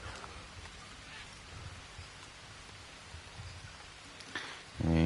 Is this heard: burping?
no